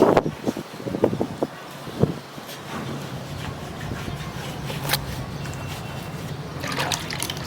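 Ice-cold water poured and splashing for bathing outdoors at a pond: a few close splashes and trickles at the start, then a steady running, rushing water sound with occasional louder splashes, no talking.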